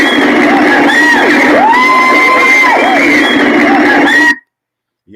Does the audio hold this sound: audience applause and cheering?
yes